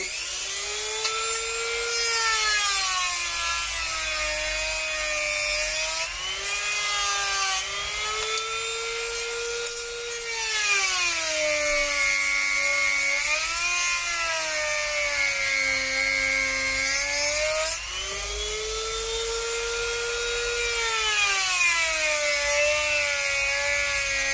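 A grinder works inside a Ford Transit Custom van during a speaker upgrade, with a continuous close whine over about twenty-four seconds whose pitch rises and dips as the load changes.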